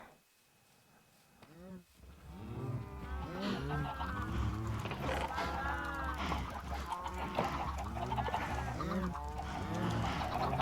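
Many chickens in Minecraft cluck and squawk in a dense, overlapping chorus that swells in after a short, quieter start and keeps going loud and busy to the end.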